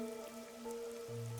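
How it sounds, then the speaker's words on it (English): Rain falls steadily in the Rain Code video game, a soft continuous patter under sustained droning musical tones, with a low hum rising near the end. "The rain, it never stops."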